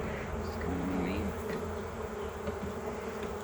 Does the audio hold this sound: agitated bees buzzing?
yes